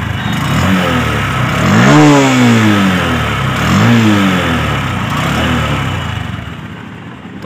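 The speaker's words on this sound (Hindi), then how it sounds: "अब मैं आपको एग्जॉस्ट का यहाँ पर साउंड सुना देता हूँ।" Honda SP 125 BS6 motorcycle exhaust revving up close, with two strong rising throttle blips over a steady running engine and no talking.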